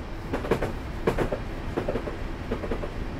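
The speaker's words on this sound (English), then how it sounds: "Another train passing" In the Train Simulator video game, a train passes on the left with rhythmic clickety-clack wheel beats over rail joints, fairly faint and steady under a constant rolling rumble.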